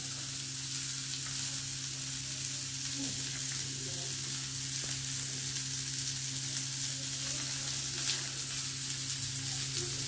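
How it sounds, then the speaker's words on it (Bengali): Whole garam masala spices (cloves, cinnamon and small cardamom) sizzling in hot oil, a dense, steady crackling hiss close up with a faint low hum underneath and occasional soft stirring touches. "এবার গরম মশলা ফোড়ন দিচ্ছি।"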